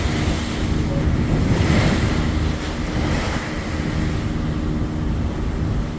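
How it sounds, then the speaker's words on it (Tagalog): Big sea waves are heard from aboard a ship travelling between Dumaguete and Dipolog, a loud, continuous roar of surf and rushing water mixed with strong wind noise. "Lalaki ng alon."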